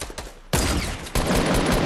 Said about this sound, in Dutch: ik word ook door een ander team in mijn rug geschoten nu